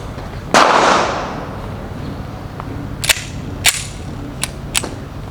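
A single sharp, loud gunshot from a 22 TCM firearm aimed at Level IIIA body armor, heard outdoors and up close with a brief echoing tail, followed by several fainter sharp cracks from other shots nearby.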